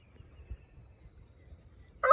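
A rooster's crow bursts in loudly at the very end, after a stretch of quiet, low rumbling background noise.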